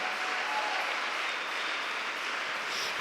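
A church congregation applauding and cheering in acclamation, a dense, continuous wash of clapping at steady loudness with no clear individual voices.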